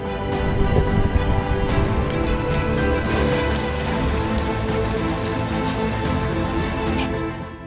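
A heavy pre-monsoon downpour falls in Sihor, Bhavnagar, Gujarat. A loud, dense, unbroken roar of rain hits surfaces nearby from start to finish, with no voices.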